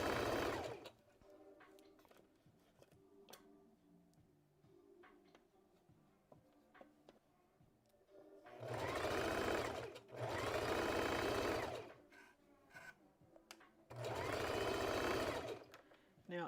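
A domestic sewing machine stitches a McCall's M8383 dress in three loud, rapid whirring bursts, the first short and the next two longer, with quiet fabric handling and clicks between them.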